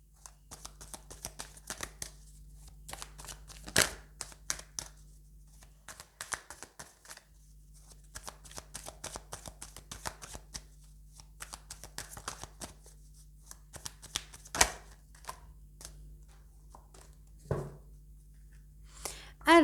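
Tarot cards are shuffled by hand in close, quiet bursts of riffling and flicking, with soft irregular snaps over a low steady background hum.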